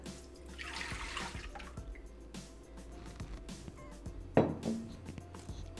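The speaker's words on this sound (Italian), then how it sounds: "Iniziamo la ricetta mettendo all'interno del boccale il latte." Milk poured into the bowl of a Thermomix kitchen machine, a quiet liquid trickle with faint drips and one brief louder splash near the end, heard close and alone.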